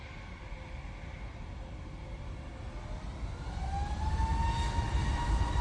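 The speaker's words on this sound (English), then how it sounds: "Going off to Corfu, we have this A321neo." Airbus A321neo jet departing Manchester Airport for Corfu, a distant engine hum that grows louder and deeper toward the end, with a rising whine coming through.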